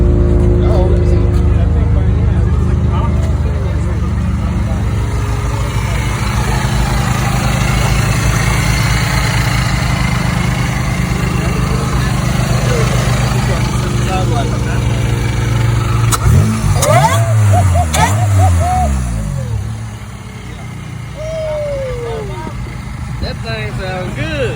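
A supercharged Toyota Camry at a car meet revs and idles loudly nearby, a steady engine drone with rising and falling rev sweeps near the end, while people talk over it outdoors.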